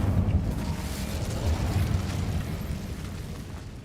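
The Incendio fire spell is cast in a Harry Potter video game, giving a sustained whooshing roar of flame. It starts strong and slowly fades over a few seconds, with no speech.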